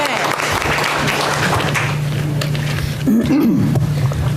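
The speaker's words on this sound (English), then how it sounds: "let's give these guys a round of applause" Audience applause at a school board meeting for a group of middle school students, steady clapping at close range over a low hum, with a voice and a brief vocal sound breaking through near the end.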